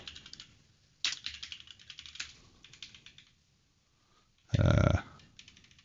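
Bursts of typing on a computer keyboard, close and fairly quiet, with short runs of key clicks separated by pauses and a louder, denser flurry of keystrokes near the end.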